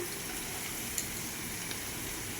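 Ingredients fry in a pan while semolina pulao is being cooked. A soft, steady sizzle continues throughout, with a couple of faint clicks.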